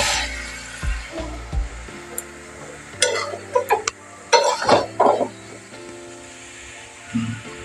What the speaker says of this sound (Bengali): আমি ঢাকনাটা খুলে একবার দেখে নেব